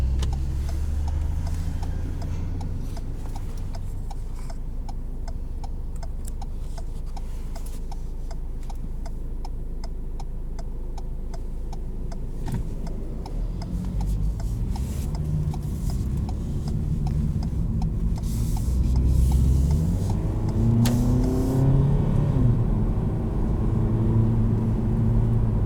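A 2019 Ford EcoSport with a 6-speed automatic cruises with a steady low engine hum and rhythmic ticking, the engine note easing smoothly through gear changes, with no talk.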